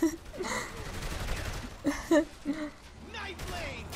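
Gunfire from the video game Saints Row: The Third: scattered shots and bursts come in at moderate loudness under steady, excited talk and laughter.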